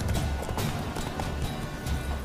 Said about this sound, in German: Das ist mein Pferd, kriegt Panik.